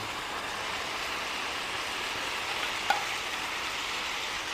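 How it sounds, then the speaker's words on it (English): Beef and vegetables pan frying for Korean bulgogi give a steady, even sizzle throughout, close by, with one faint click partway through. "Once you pan fry one side, you want to flip it over."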